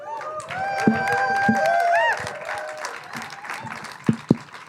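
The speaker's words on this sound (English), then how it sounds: "give them an introductory applause if you want" Audience applause and cheering from a crowd at an outdoor festival concert, a dense burst of clapping mixed with whistles and voices that fades after a few seconds, followed by scattered claps and sharp nearby knocks.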